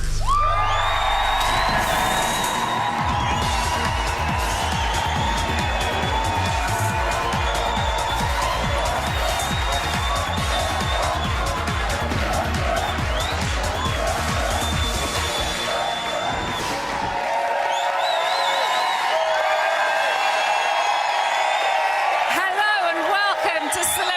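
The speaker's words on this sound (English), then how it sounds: "You sound like a football crowd tonight!" TV studio audience at the Celebrity Big Brother UK live final cheering and whooping like a football crowd, loud and continuous with shouts and a booming music bed that drops out partway, then the roar carries on.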